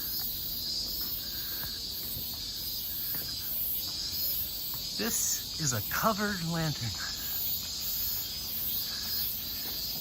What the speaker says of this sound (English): I don't know if you guys can hear the cicadas.